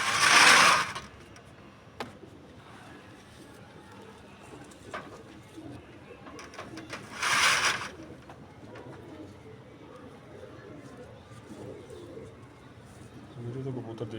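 Pigeons coo softly in the background of a quiet space, with two short loud bursts of fluttering or rustling and a low mechanical hum throughout.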